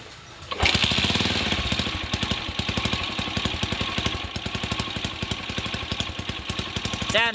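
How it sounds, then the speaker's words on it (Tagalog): A motorcycle engine fitted with a capacitor fires up with a sudden loud start and then settles into a steady, fast, close-up putter of even pulses that carries on for several seconds, with no talking over it. "So yan, umandar natin motor,"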